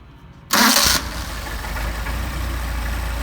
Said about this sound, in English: Do a hot start.